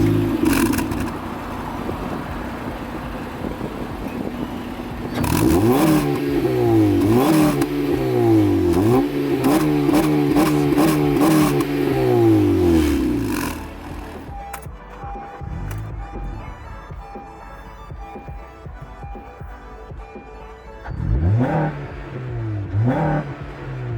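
A 2013 Honda Civic Si Coupe exhaust revs repeatedly and close by, climbing and dropping in quick blips for several seconds, then settles into a quieter idle with a short final pair of revs.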